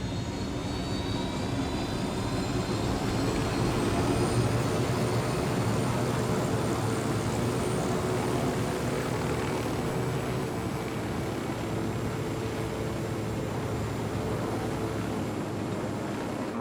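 A fixed-wing aircraft engine drones steadily in Ghost Recon Wildlands, a smooth continuous roar with a faint high whine, even and unbroken throughout with no talk.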